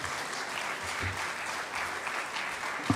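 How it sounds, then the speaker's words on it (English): Audience at KICC applauds the Deputy President after a speech at a joint UDA–ODM parliamentary gathering, a continuous roomful of clapping heard from a distance, fairly soft and even, with a faint thump near the end. "A warm clap for His Excellency"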